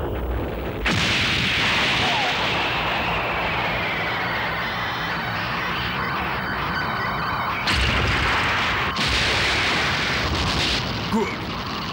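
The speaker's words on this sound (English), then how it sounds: "The energy generated by the explosions has been absorbed by Fortress Maximus's battle station" Sustained rumbling blasts and booms from explosions in a Transformers Headmasters animated episode set on Mars, loud and continuous with a few sharp bursts, no talk over them.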